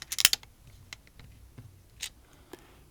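Sharp clicks of small magnetic toy shapes snapping together, a quick cluster at the start followed by a few isolated clicks, close and fairly quiet.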